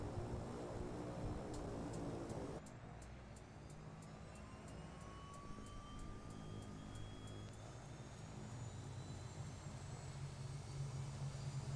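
A Cessna 208 single-engine turboprop starting up, a steady droning engine roar with a rising whine that climbs gradually in pitch after an abrupt change in tone near the beginning.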